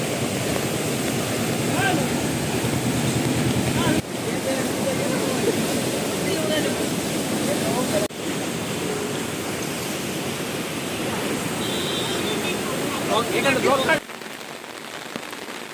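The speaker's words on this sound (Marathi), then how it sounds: "नदीचं पाणी देखील येतोय हे मध्ये पाण्याचा थोप बघा तिकडला गेटने आलेला आहे" Floodwater from the swollen Agasti river near Rawande village, Kopargaon, rushes in through a gate, making a loud, unbroken roar of churning water that fills the whole scene steadily from start to finish.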